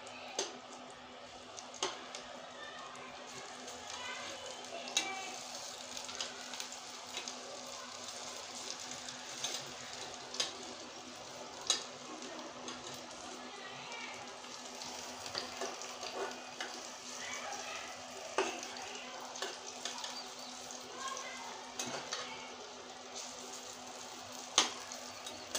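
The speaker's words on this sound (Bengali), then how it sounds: "এখন আমি এই এই বড়াগুলো আমি উল্টিয়ে দিচ্ছি।" Eggplant fritters fry in a pan and are turned over one by one, a steady faint sizzle with scattered light clicks and taps.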